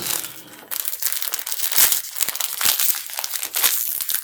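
Crinkly plastic packaging from an online order is pulled open and handled up close, a dense run of loud rustling and crackling bursts with a few tearing sounds, no voice during it.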